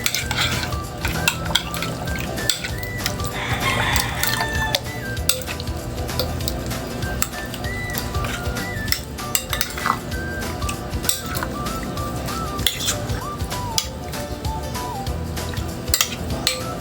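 Pork liver is stirred and mixed in marinade, with wet squelching and repeated clinks and scrapes of a utensil against a bowl, close and continuous, with no voices.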